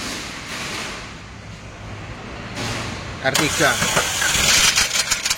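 A Suzuki Ertiga engine cranks and catches, then settles into a throbbing idle with some revving; voices talk briefly before it starts.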